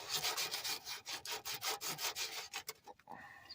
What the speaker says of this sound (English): so I gotta use sandpaper now